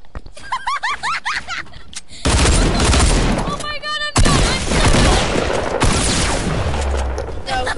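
Dense video game gunfire from a playground shootout, loud and continuous bursts and booms filling most of the stretch, with excited voices shouting over it early on.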